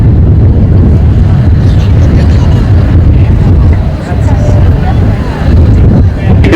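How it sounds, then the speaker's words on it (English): A KC-10 Extender flies low in landing configuration with gear down and flaps out at the Travis AFB Air Expo in June 2000, a loud, sustained jet roar buffeted by wind noise, while an announcer talks over it. "You see how it flies with a nose-high attitude, very common for all aircraft."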